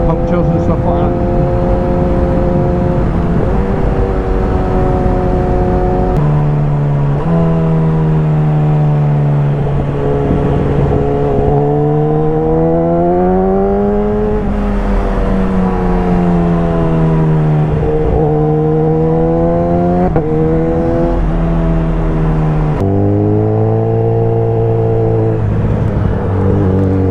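Suzuki GSX-S 1000 motorcycle ridden fast on open roads, its engine droning loudly and continuously, pitch rising and falling through repeated gear changes and acceleration, with wind rush underneath.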